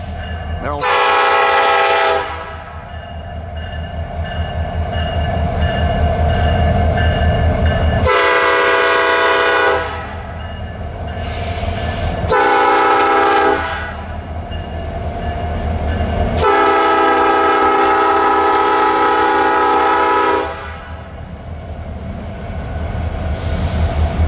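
A westbound CN freight train pulls out of a rail yard in Waterloo, Iowa, its horn sounding in several long, loud blasts over the continuous rumble and clatter of the passing cars.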